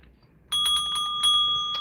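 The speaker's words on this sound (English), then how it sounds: "I'll give you a proper bell." A bicycle-style bell rung in a repair shop to thank for a donation gives several bright, close, metallic dings in quick succession after a brief quiet moment.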